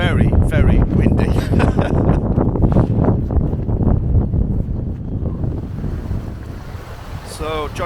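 Strong gusting wind sweeps across a seaside field in the Shetland Islands, buffeting the microphone with loud roaring rushes and a hiss of surf behind, continuous and close throughout.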